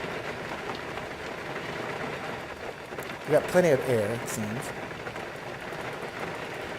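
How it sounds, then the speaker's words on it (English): Steady rain patters over a small general aviation aircraft on the ground, a constant wash heard under a man's speech. "It sounds like it's raining now."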